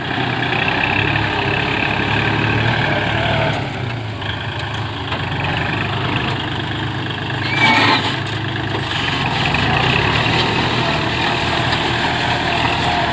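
A farm tractor used for plowing rice paddies runs steadily at idle, a continuous rumbling drone with no speech, holding even loudness throughout.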